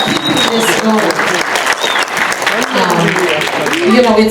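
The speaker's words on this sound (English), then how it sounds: "let's give him a round of applause for keeping this going." Applause for Lynn Cawthorn at the State of Black Shreveport 2016 event, a loud, steady wash of crowd clapping with voices and cheers mixed in throughout.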